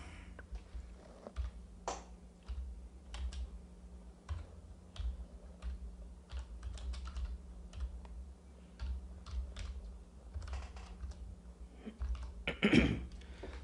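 Typing an Arabic company name on a computer keyboard into accounting software, with faint, irregular key taps under a low steady hum and a louder rustle or cough near the end.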